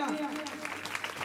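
Brief burst of audience clapping during a church sermon, rising just after a preacher's voice and lasting only about a second.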